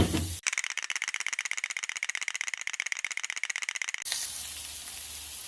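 On a Blackstone griddle, diced onions hit melted butter and break into a soft sizzle near the end, after a few seconds of fast, even rattling clatter.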